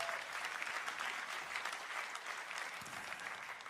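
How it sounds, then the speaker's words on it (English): Steady applause from an audience at a Sunday night live broadcast, many hands clapping continuously and evenly throughout without a break, fairly loud and close. "You can clap your hands right there and feel comfortable."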